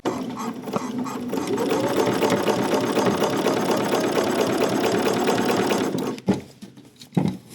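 Sewing machine stitching a rolled-under facing on a vintage-style top, a loud steady whir that runs for about six seconds, then stops, followed by light handling noises.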